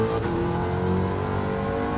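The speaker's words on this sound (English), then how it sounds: "able to accelerate without squealing the wheels through that turn there." Eckert's Rod and Custom Mach Forty, a mid-engine car in Gran Turismo 7 at Circuit de La Sarthe, accelerating with a steady, loud engine drone and rising harmonic tones, no talk.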